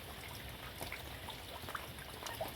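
Rainwater overflows and trickles softly in a continuous faint wash, with a few small drips and splashes rising above the quiet flow.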